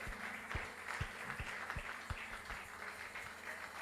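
A church congregation at a Sunday service applauding, a dense wash of clapping with a steadier rhythmic beat of claps running through it, moderately distant, under a faint background hum.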